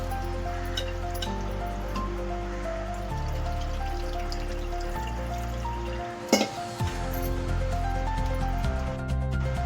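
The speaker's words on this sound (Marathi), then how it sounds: "आता ह्याला साधं पाणी घालून स्वच्छ धुवून घ्यायचं आहे।" Rasmalai chhena being rinsed with plain water, heard as soft drips and splashes with one sharper splash partway through, all over a steady low hum.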